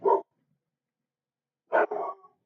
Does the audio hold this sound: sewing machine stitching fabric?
no